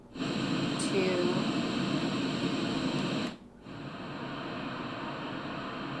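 A portable white noise machine plays a steady, hissing ocean-surf noise, loud and close, cutting off briefly partway through and then resuming as a slightly softer continuous wash.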